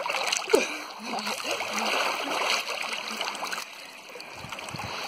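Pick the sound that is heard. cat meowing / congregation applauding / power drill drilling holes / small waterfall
small waterfall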